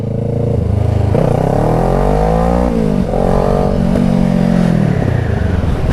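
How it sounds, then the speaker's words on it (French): Motorcycle engine on a new A2-licence rider's bike revving up and down while riding, loud and continuous with rising and falling pitch sweeps and no talk over it. "C'est le bruit du moteur."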